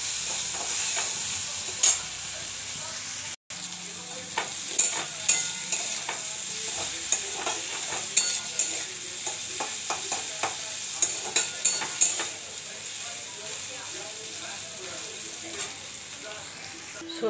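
Potatoes with turmeric fry in a pan over a continuous close hiss, while a spoon scrapes and stirs in repeated clicks and knocks. There is one brief dropout near the start.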